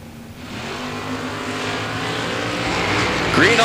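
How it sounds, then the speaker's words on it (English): Drag race cars, including a Chevelle, launching side by side down a drag strip. Engines roar loud and steady, building slightly toward the end, with a faint high whine rising at the close. "We've got a drag race here."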